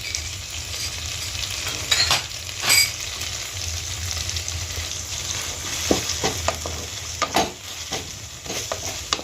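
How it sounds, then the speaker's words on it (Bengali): Spice paste with ginger and garlic frying in a pan, giving a steady close sizzle with occasional scrapes and taps of a spoon stirring through the paste, and no voices. "দিয়ে ভালো করে মশলাটা কষিয়ে নেব।"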